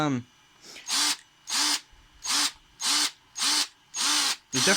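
A new Ryobi drill with a brushed motor runs in short repeated bursts, about seven evenly spaced whirring pulses close to the microphone with brief pauses between them.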